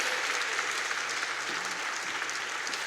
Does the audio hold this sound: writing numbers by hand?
no